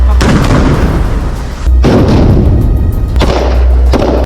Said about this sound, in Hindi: सैनिकों के गोलियां चलाते समय ही पीछे से टैंक भी आगे बढ़े और इन्हीं टैंकों ने एक झटके में हमास के ठिकाने को धुआं कर डाला